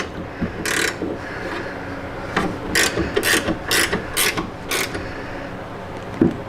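A ratchet wrench tightens a fender bracket on a 2009-2013 Harley Touring motorcycle, giving close, crisp bursts of rapid clicking in short strokes with small pauses between them.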